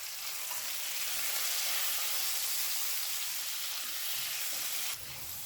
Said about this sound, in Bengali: আলু ভাজার সময় সামান্য পরিমাণ হলুদ দিয়ে দিলাম।